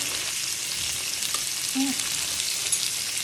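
Tomatoes, ginger and garlic frying in olive oil, a steady broadband sizzle held throughout with a faint scrape of stirring near the middle, close and moderately loud, no voices.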